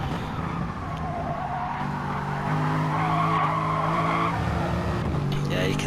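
Race car tyres in the Gran Turismo racing game squeal and skid on a corner exit over a loud, droning engine note that rises as the car accelerates away.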